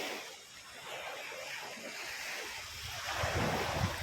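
Sea surf washes steadily below a terrace at a beach in Dapitan City, with wind buffeting the microphone, the waves swelling louder toward the end.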